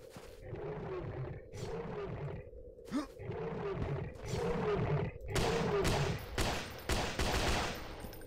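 Loud bursts of gunfire in the horror game Forsake The Rake as the creature is killed, repeated shots over a roaring game soundscape, with a voice talking in between.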